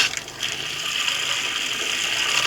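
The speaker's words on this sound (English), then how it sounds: "we're just looking for nice clean water coming out of there, flushing all that RV antifreeze out of there" Water gushes steadily from a Winnebago Solis Pocket 36B RV kitchen faucet as antifreeze is flushed out of the lines, a constant close hissing flow with no one talking.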